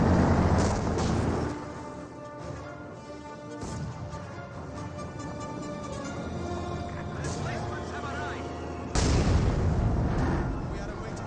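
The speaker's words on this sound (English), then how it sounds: "Mortar is trying to get some hits in." Mortar and artillery fire in the video game Company of Heroes 2 booms in repeated heavy blasts and crashes, with someone talking over the battle throughout.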